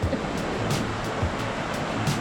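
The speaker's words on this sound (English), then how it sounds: "So we're by the sea" Sea waves breaking along the Costa Rica coast in rain, a continuous rushing surf wash with occasional louder splashes of water, steady and fairly close.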